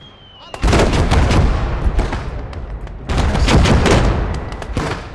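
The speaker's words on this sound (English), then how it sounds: "We've got heavy Russian artillery." Heavy Russian artillery and gunfire in a war video game: booming, crackling barrages in two loud bursts, dense and close, with rumbling explosions layered over rapid shots.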